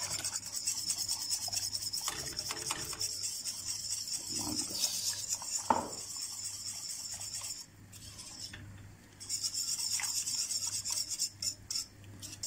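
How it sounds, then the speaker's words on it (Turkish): Spoon slowly stirring chicken broth soup with lukewarm yogurt mixed in, producing soft scraping and rubbing against the pot in an uneven rhythm, fairly quiet and close, with brief pauses. "Bu ılık olduğu için şöyle yavaş yavaş çorbamızı da karıştırıyoruz"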